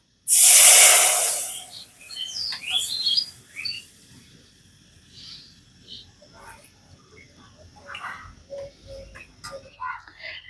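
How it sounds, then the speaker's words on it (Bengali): Milk is poured into a hot wok already used for frying rice, setting off a loud burst of hissing steam that quickly fades into a softer simmer with faint crackles. "সেই কড়াইয়ের মধ্যে আমি দুধটা দিয়ে দিচ্ছি"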